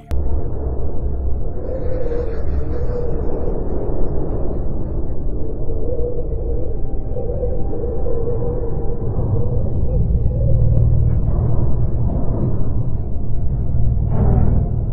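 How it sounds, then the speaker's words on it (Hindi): Low, muffled rumble of Mars seismic vibration from a seismometer on NASA's InSight lander, a steady faint tremor of wind and ground noise running the whole time without voices. "इन वेव्स को सुनने पर हमें टोन्ड कम मैग्नीट्यूड वाली गड़गड़ाहट मिलती है, जैसे हल्का कंपन"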